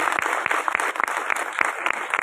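A theatre audience applauding the performers of the play Udham Singh, loud, close clapping with distinct individual claps standing out from a steady wash of hands.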